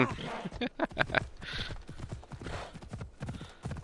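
Horse hooves clip-clop in an uneven trot in the video game Assassin's Creed Odyssey, moderately close, with a brief whinny-like sound mixed in.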